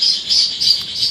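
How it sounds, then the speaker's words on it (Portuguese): Small birds chirp in repeated bright bursts, four quick phrases in a steady rhythm, fairly close and clear with no talking. "Birds,"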